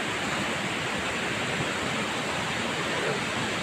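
Dumagooc Falls in Agusan del Sur roars as a steady, dense rush of falling water, close and continuous with no voices.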